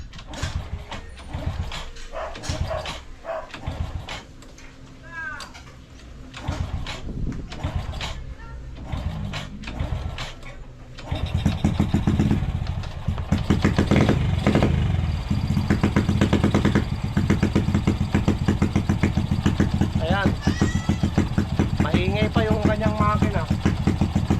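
A Honda Wave 100 motorcycle engine misfires, running roughly with uneven, sputtering beats, growing louder and steadier midway, while people talk over it.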